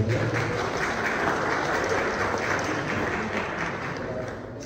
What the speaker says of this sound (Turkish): hepinizi bir alkışa davet ediyorum